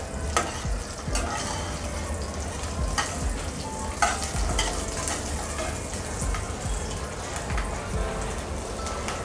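Garlic, ginger and chillies sautéing in a pan, a continuous close sizzle broken by repeated scrapes and clinks of stirring.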